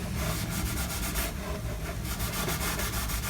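A cloth rubs varnish cleaner and polish along a violin rib in quick, steady back-and-forth strokes, close and dry, with no talk.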